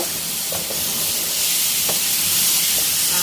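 Catfish with red curry paste stir-fries over high heat in a hot pan, giving a loud, steady steamy sizzle with a few faint stirring clicks.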